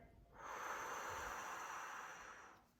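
One long, deep exhale of breath, close and soft, a steady airy rush that swells quickly, holds for about two seconds and then fades.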